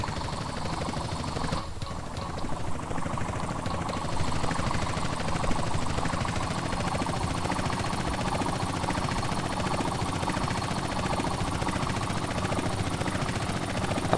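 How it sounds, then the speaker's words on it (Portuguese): A helicopter in the Call of Duty MW3 multiplayer mod for SA-MP, crashing and exploding during gameplay: a steady, loud rotor-like drone fills the whole stretch with a brief burst early on, and no talk over it. "o cara jogou o helicóptero contra mim, mano. Explodiu tudo."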